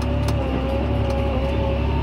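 A John Deere tractor drives out to load grain during spring wheat sowing, giving a steady, loud engine drone with a constant hum and no change in pitch across the stretch.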